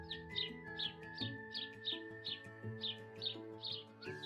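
Short, bright sparrow-like chirps repeat steadily about every third of a second, fairly close over a soft musical backing, with no talk.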